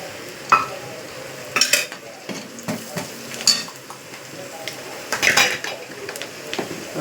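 Chilli powder fries in oil in a pan for tomato gravy, a low sizzle broken by repeated close metallic clinks and scrapes as a spoon stirs against the pan, with no voices.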